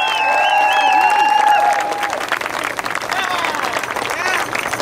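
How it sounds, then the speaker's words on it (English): Crowd applause at a Los Angeles city council campaign kickoff in El Sereno, sustained clapping and some cheering filling the space, with a speaker's voice over it at first before the clapping carries on alone. "Let's give a big round of applause to all the working families,"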